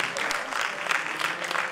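Audience applause at an international film festival stage event, a steady wash of clapping throughout, fairly close and even, with no clear voices over it.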